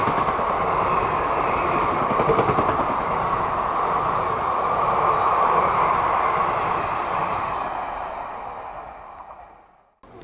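A train runs along platform 5 at Bagnan railway station near Kolkata, making a loud, continuous rolling rumble and rattle that holds steady for most of the time, then fades away at the end.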